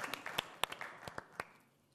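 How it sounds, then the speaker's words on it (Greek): Sparse, uneven applause at a traditional music evening, a dozen or so distinct claps from a few people, close and moderately loud, trailing off into quiet. "ένα θερμό χειροκρότημα"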